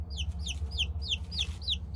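A baby chick only a couple of days old chirps repeatedly, high rapid downward peeps in a steady series of about nine calls, close over a low background rumble.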